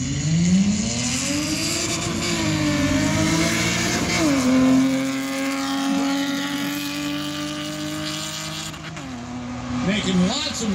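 A race car pulls away from the start line at the Mt. Washington hillclimb, its engine loud and close as revs climb, shift and climb again, with a commentator talking over it throughout.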